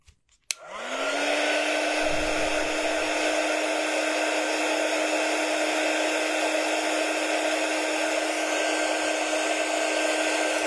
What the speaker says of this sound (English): Now let's dry it and see.